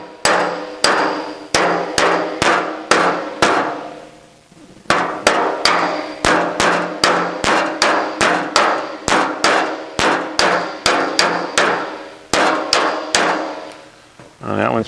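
Close, loud hammer-and-dolly blows on an aluminum auto body panel during dent removal, sharp metallic strikes in quick rhythmic bursts with a brief pause in the middle, no talk.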